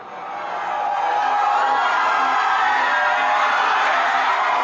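A large crowd gathered at a political rally, a dense, steady roar of many voices and cheering that swells in over the first second and then holds loud and continuous.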